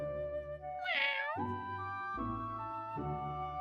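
A cold, shivering stray cat gives a clear, close meow that rises and falls, followed by a few shorter, softer mews, with no talking over it.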